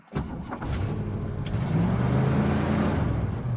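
A 1963 Cadillac Coupe DeVille, just out of storage, starts with a sharp crank and catches at once, then settles into a steady, loud engine rumble that builds slightly as it idles up.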